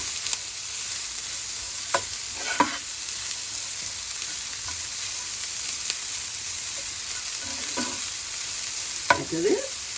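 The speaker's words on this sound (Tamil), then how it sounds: "இந்த வாழைப்பூ கொத்தி வச்ச வாழைப்பூவை போடுறோம் இது கொஞ்சம் மிக்ஸ் பண்ணி விடணும்" Chopped banana flower being stirred in a frying pan, a soft steady sizzle with several sharp scraping strokes of a spoon against the pan at irregular intervals, close by and without speech.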